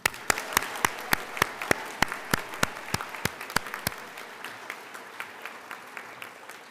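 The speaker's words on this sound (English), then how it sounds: "a huge round of applause for you on your admission to the State Bar" Audience applause at a State Bar swearing-in ceremony, starting as crisp, near, regular claps that thin out to scattered, fainter claps toward the end.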